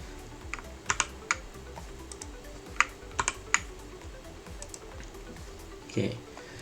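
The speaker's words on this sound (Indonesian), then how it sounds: "Setelah kita tekan Ctrl B, untuk kita memulai run programnya bisa menekan dengan Ctrl M." Shortcut keys such as Ctrl combinations pressed on a computer keyboard while running a PLC program simulation in EcoStruxure Machine Expert Basic; a few sharp, scattered clicks over a steady room hum.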